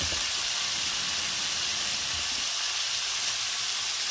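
Broth poured into a pan of pakbet with sautéed tomatoes hisses in a loud, steady sizzle that fills the whole stretch without a break, close up and with no voices.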